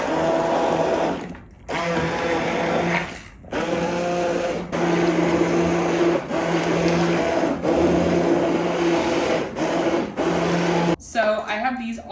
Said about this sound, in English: I am going to go ahead and get these crushed up using my immersion blender